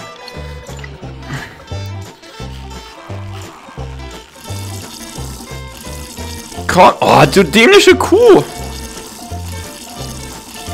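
Milk squirting into a bucket in the VR game Cow Milking Simulator, splashy liquid bursts over a steady game beat, with someone talking over parts of it.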